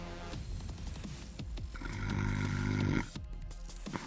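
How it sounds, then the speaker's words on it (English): A bulldog snores in low, rumbling, throaty breaths, with one long, drawn-out snore in the middle of the sequence, heard close and fairly quiet. "Make a remix of him snoring."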